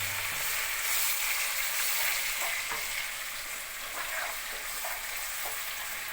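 Onion frying in hot mustard oil for a crab curry, a steady close sizzle with occasional light stirring clinks, no voices.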